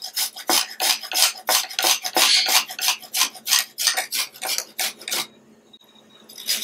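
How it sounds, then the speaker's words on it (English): About an ounce of fresh peeled ginger is grated in quick, rhythmic rasping strokes, close and crisp, each scrape distinct, before the grating stops near the end. "Once your ginger is peeled, and this is about an ounce of ginger, I'm gonna grate my ginger."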